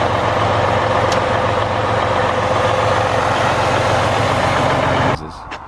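A Detroit Diesel DD16 truck engine idles loud and close with a steady, deep rumble that holds evenly and then cuts off abruptly near the end.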